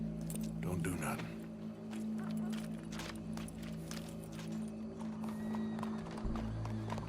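Horse hooves clip-clopping in Red Dead Redemption 2, a quiet, irregular run of hoofbeats under steady background hum and game ambience.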